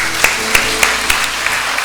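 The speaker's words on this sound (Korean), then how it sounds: "우리 모든 것 다 하나님께 영광의 박수 올리겠습니다." A church congregation at a first-anniversary worship service applauds to glorify God, producing a dense, steady wash of clapping with regular, evenly spaced accents.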